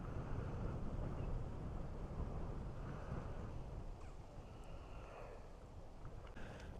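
Wind blowing steadily outdoors at a dog park, a broad low rumbling roar buffeting the microphone throughout, easing slightly toward the end with faint distant sounds above it.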